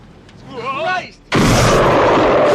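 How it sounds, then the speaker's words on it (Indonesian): A rocket launcher fires and blows up a police car in an action film, a sudden loud, sustained blast that cuts in sharply after a brief tonal sound and roars steadily to the end. "menembakkan roketnya yang langsung membuat mobil polisi meledak"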